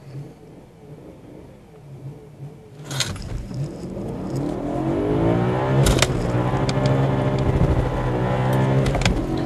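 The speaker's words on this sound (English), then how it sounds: "I've got massive wheel spin in second gear" A sports car launches hard with traction control off and wheel spin in second gear, its engine note rising from a low idle to a loud sustained rev that climbs steadily as it accelerates.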